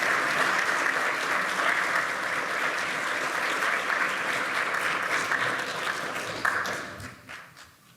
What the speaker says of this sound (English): how about another round of applause for learning about Madison tonight from Dr. Jay Cost.